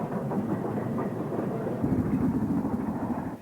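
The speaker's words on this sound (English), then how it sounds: "A pair of Castle-class locomotives are seen double-heading this train into Snow Hill." Two Castle-class steam locomotives double-head a train into Snow Hill with a steady, rumbling roar and a rolling rhythm of wheels, continuous and fairly close, with no voices.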